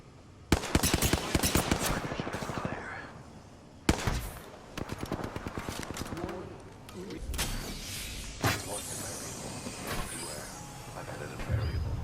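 Gunfire in a ranked shooter video game, with sharp single shots and rattling bursts of rapid automatic fire, loud and close, easing into quieter mechanical clicks and thuds toward the end.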